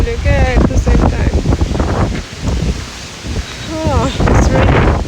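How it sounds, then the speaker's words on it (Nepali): Outdoors, gusts of wind buffet the microphone and rustle through leaves as rain begins, a loud rushing noise beneath a person talking excitedly. "पानी र हावा चल्यो क्या एट द सेम टाइम"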